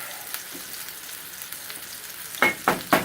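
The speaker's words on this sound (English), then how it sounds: "my potatoes are boiling nicely over here" Potatoes boil in a pot on a stovetop while Salisbury steak is being cooked, a steady bubbling hiss with a few louder pops and clinks near the end and no talk.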